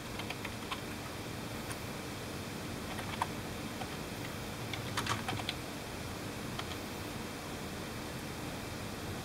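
Steady typing on a computer keyboard, light clicking keystrokes in an uneven rhythm with a brief faster flurry midway, close and fairly quiet over a soft hiss.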